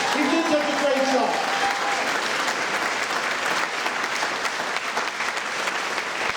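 Sustained audience applause fills a campaign kickoff rally for a congressional general election, a steady dense wash of clapping with a few voices briefly rising over it near the start.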